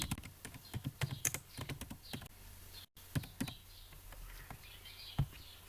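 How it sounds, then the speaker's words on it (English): Keys on a laptop keyboard are typed in quick, uneven bursts of close, crisp clicks, with a brief pause between bursts and a quiet room behind them. "If I want to download Snipping Tool, I will type here Snipping Tool."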